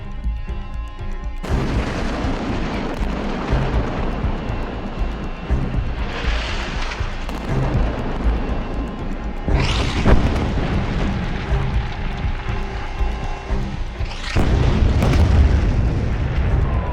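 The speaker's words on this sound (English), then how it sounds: "The Israeli bombardment, which started on October 7th, still continues." Israeli bombardment after October 7, 2023: repeated heavy booms and explosions, several spaced blasts over a continuous dense rumble with what may be aircraft overhead, loud and close.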